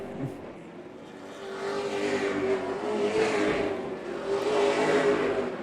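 Super late model race cars at a ReCar 150 stock car race, the engine drone swelling as the pack approaches, a steady roar with a held pitch line, loud and continuous with no talk.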